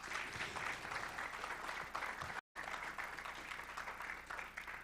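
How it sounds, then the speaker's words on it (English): An audience applauding at an AI and library technology expo, a steady, moderately distant patter of many hands clapping that continues throughout with only a brief dropout partway. "please just clap your hands for yourself"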